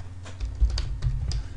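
Someone types briefly on a computer keyboard, a few soft clicks and taps close by over a low background hum, with no one speaking.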